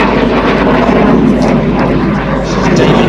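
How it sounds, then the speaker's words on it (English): Hunting Percival Jet Provost T5 jet trainer performing a flying display at an air and car show, a loud continuous engine roar filling the whole stretch without break. "our one and only jet aircraft display here today"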